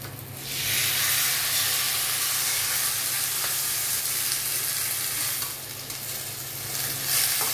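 Masala frying in a pan for methi bhindi as a little water goes in, a loud hissing burst of steam and sizzle that holds steady, then flares again near the end, with no voices.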